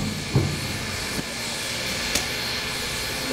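Southern #4501 steam locomotive at the Tennessee Valley Railroad Museum releasing a steady, continuous hiss of steam, broken by a few brief clanks and thumps.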